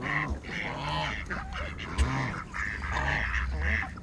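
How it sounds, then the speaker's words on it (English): Ducks and geese in an outdoor flock give repeated honking quacks, several calls in irregular bursts, close and fairly loud, with someone talking faintly among them. "Quack, quack, quack."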